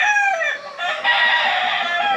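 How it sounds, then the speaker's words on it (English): A fighting rooster on a farm in Puerto Rico crows loudly and close, one drawn-out cock-a-doodle-doo filling the whole stretch with no talk over it. "Are these fighting chickens then?"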